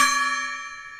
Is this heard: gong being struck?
yes